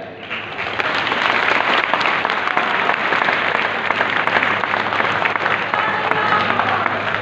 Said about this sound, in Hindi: बच्चों का जोरदार तालियों से एक बार फिर इस्तेमाल कीजिए